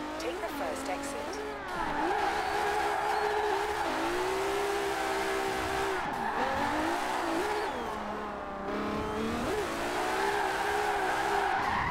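A Nissan Skyline R31 GTR drift build slides through corners in Forza Horizon 4, its engine revving and falling with repeated tire squeal, while someone talks over the action.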